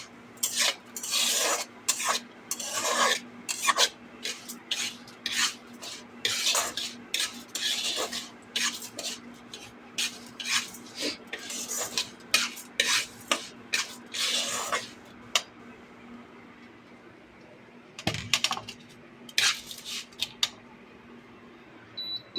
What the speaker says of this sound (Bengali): ডালটাকে নামিয়ে নিয়ে একটু নেড়ে নেওয়া হচ্ছে যাতে না কোনো জায়গায় ধরে যায়, জ্বলে যায়।